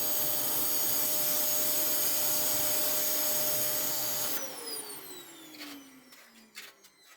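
A vacuum cleaner running steadily inside a car interior, loud and close with a constant whine, then powering down with a falling pitch and a few bumping knocks afterward.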